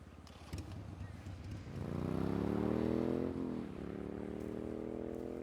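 A motorcycle engine in the video game GTA V revs up and holds a steady, loud drone, pitch rising and then settling, with a rumbling low end and no speech over it.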